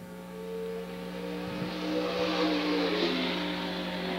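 Race car engine holding a steady drone as a car runs its qualifying lap in the Tri-State Challenge Series, a continuous loud hum that swells slightly midway, with no talk over it.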